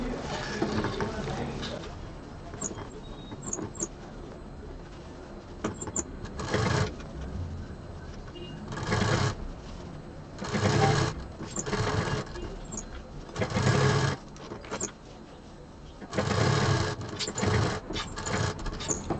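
A sewing machine stitches close along the edge of a zip's fabric tape on a handbag, with several loud bursts of steady whirring between pauses, alongside a voice talking.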